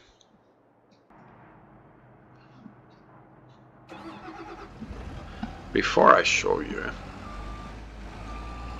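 A truck in the Farming Simulator 22 video game starts up and reverses, its engine rising and steady reversing beeps sounding in the second half, mixed under someone talking.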